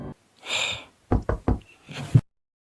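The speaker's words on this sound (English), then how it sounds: "we hear a knock" Three sharp knocks on a door land in quick succession, close and loud, amid a breathy gasp and soft rustling in a Minecraft ARG scene.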